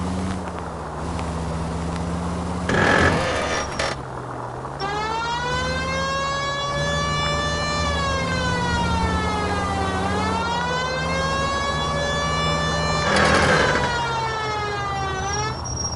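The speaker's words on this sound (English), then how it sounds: "You know, we got a siren, Phelps." A police car siren wails, rising and falling in long sweeping tones, loud and continuous, with a couple of brief bursts of noise breaking in, in the VR video game L.A. Noire.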